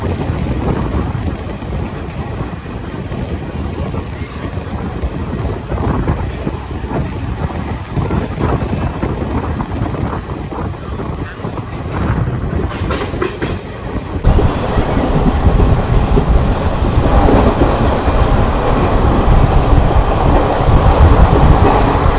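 The Teesta Torsa Express runs at full permissible speed, a loud continuous roar of wheels on rails with wind buffeting, growing louder partway through.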